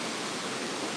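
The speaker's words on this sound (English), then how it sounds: "that's my waterfall. So it's actually a tree that fell and it created a waterfall" A small waterfall on a homestead property, formed where a fallen tree dams the water, gives a steady, dense rush of water that is close and continuous with no voices.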